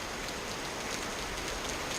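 Steady rain falls outdoors in a continuous, even hiss of drops on surfaces, moderately faint, with no voices.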